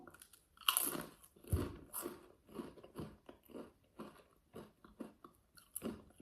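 Pringles chips crunched and chewed during a tasting, a string of close, crisp bites and chewing crackles with brief pauses between them, no talking.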